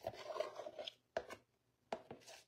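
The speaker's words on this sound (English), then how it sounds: "So I'm just going to stir my starter down" A spoon stirs sourdough starter in a bowl, giving a few soft scraping and sticky strokes separated by short pauses, quiet and close with no talk.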